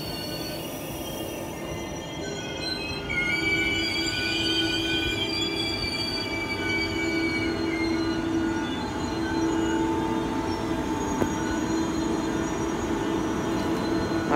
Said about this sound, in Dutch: dat gaat de trein